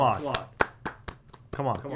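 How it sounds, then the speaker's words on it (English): Clapping sound effect, a quick run of sharp hand claps in uneven rhythm, heard alongside talking voices. "he clicked on the clapping sound and effect"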